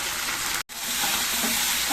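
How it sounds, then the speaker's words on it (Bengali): Ground spice paste with turmeric and a spoonful of salt sizzles and fries in a pan while being stirred, a steady bright hiss broken by a brief silent gap, with no talking. "সবকিছু ভালো করে কষিয়ে নিচ্ছি।"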